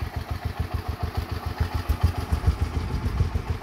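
Small Wheel Horse garden tractor engine running with a rapid, even chugging pulse and some clatter, a steady mid-loud idle heard up close.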